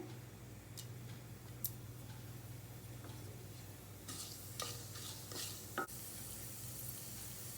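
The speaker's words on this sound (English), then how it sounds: "Now the oil is hot. I will first add the methi seeds, cumin seeds, and the red chilies and toast it for some time." Methi seeds, cumin seeds and dried red chilies toast in hot oil with a soft, low crackling sizzle, punctuated by scattered light clicks and taps of stirring, quiet and close with no talking.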